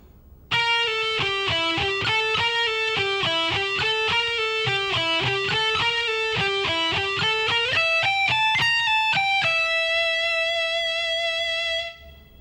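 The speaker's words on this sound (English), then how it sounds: "with that alternate picking part, it should sound like this at a slow tempo" Distorted electric guitar playing a shred lick with steady alternate picking at a slow tempo, a continuous run of clear, evenly spaced notes that ends on a long sustained held note.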